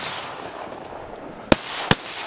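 Two sharp shotgun blasts fired at ducks on the opening day of a Wisconsin duck hunt, about half a second apart, loud and close over a steady outdoor background hiss.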